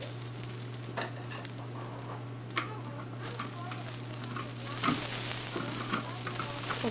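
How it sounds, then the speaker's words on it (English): Food sizzles steadily in a hot pan while being stirred, with scraping and clatter from the stirring and occasional voices nearby; the frying grows a bit louder toward the end, over a constant low hum. "It's sizzling."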